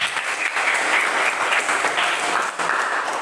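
Steady applause from a classroom of students fills the room, dense and continuous with no pauses, fairly loud and close throughout.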